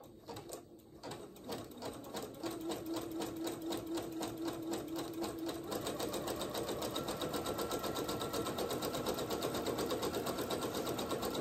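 A sewing machine runs steadily, zigzag stitching fabric for a New Look 6891 sewing pattern, its rapid rhythmic needle clatter continuous and close throughout with no talking.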